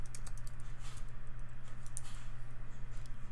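Fast, steady typing on a computer keyboard during a VS Code and Python setup, a dense stream of close, crisp key clicks over a low constant hum, with no talking.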